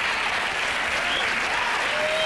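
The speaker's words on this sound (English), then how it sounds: "The crowd goes crazy." A talk show studio audience applauds and cheers a guest, a dense and steady roar of clapping with a few whoops, loud and unbroken throughout.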